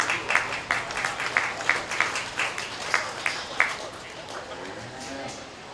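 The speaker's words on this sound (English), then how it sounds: "Let's give a final round of applause for our judge today, Lola Mueller" Audience at a county fair dairy calf show applauds the judge, steady clapping with sharper peaks for about four seconds before tapering off into a quieter room.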